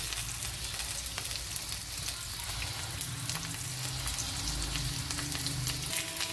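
Green chillies sizzle and fry steadily in hot oil for an egg curry, a continuous close crackling hiss at an even level with no speech.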